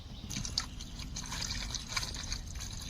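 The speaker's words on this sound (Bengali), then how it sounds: "চিংড়ি ভালো করে ধুয়ে নিচ্ছি" Prawns are washed by hand in running water, giving a steady close trickle and splashing with small drips and sloshes throughout.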